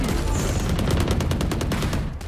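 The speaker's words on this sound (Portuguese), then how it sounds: "até eu assustei com esse tiro, velho" A video game firefight brings a loud, dense burst of rapid gunfire, shots rattling in quick succession for about two seconds before cutting off.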